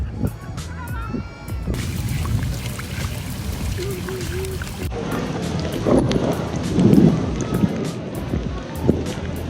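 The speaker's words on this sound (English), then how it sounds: "We just got caught in a rainstorm in the Roman Forum." Heavy rain pours down in a dense, steady roar at the Roman Forum in Rome, with gusts of wind buffeting the microphone and faint voices beneath.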